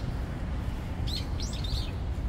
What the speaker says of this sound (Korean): 새 소리가 너무 좋죠.